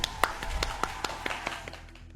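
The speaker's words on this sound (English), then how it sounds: "Let's give a round of applause for Slow." A handful of scattered hand claps, uneven and sparse, like a small audience clapping briefly.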